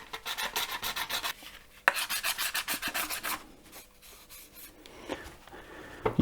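A coarse file rasping against a plastic model railway coach, rapid rhythmic back-and-forth strokes in close bursts with short pauses between runs.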